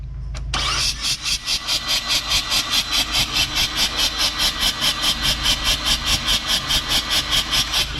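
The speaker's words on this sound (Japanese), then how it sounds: "これからセルを回していただきます" Mazda RX-7 rotary engine turning over on its starter motor during a compression test, a steady, rapid rhythmic cranking pulse that starts abruptly and continues evenly and loudly throughout, with no voices.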